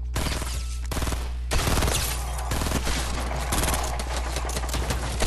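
Rapid bursts of gunfire in a one-on-one video game shootout, loud and close, coming in dense volleys separated by brief pauses, with no talking over them.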